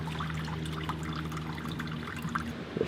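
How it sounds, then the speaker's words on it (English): Water pours steadily from a dust eliminator's water collector into a bucket, a faint continuous trickle with light splashing over a low background hum. "Now the water is going into the bucket instead of all over the floor."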